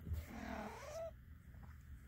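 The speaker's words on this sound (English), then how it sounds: "I hear a lot of purring from both of you." Two cats cuddling give off a low, soft purring rumble, close and quiet, with a faint brief cat vocal sound partway through.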